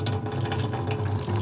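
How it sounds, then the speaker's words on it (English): A communal water fountain runs in a steady, continuous stream, a close and fairly loud gushing with no voices over it. "water fountain, and thank God for it,"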